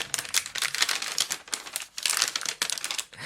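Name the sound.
lightweight paper being crinkled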